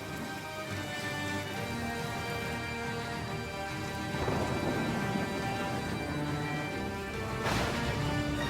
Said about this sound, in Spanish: empezó a llover. Y llovió. Y llovió.